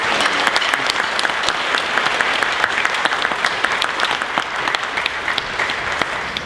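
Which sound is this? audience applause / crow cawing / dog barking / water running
audience applause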